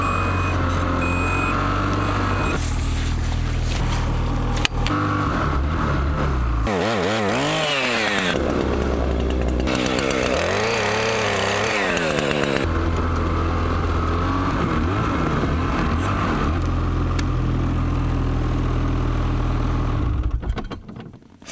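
A petrol chainsaw runs loud and steady for the full stretch in a Finnish forest while logs are cut for an off-grid cabin, its engine note rising and falling with the work before it cuts off at the end.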